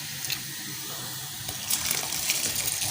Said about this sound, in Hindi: पानी उबलना शुरू हो गया।